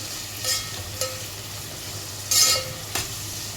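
Onions and vegetables sautéing in a pan for vegetable rice, a steady low sizzle with a few brief stirring scrapes and clinks.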